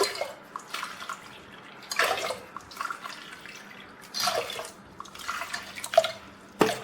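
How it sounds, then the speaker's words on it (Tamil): Water pours into a cooking pot for kodo millet sambar rice, with intermittent splashing and trickling bursts at close range, uneven and moderately quiet, with no talking. "இப்போ நான் 2 கப்புக்கு 6 கப் அளவு தண்ணி முதல்ல ஊற்றிக்கலாம்"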